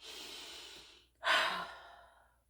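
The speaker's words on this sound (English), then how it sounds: "And just keep breathing until something pans out." Slow, deep breaths close to the microphone: one long airy exhale that fades out, a brief pause, then a stronger breath that swells and slowly trails away, with no talking.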